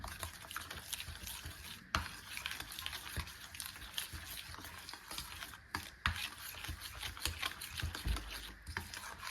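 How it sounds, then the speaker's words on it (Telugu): Curd being stirred into cake batter in a bowl, a soft continuous scraping and swishing close by with a few sharper knocks of the spoon, no talk. "ఇదంతా మిక్స్ అయ్యేలా కలుపుకోవాలి, మొత్తం క్రీమీ టెక్స్చర్ వచ్చేలాగా"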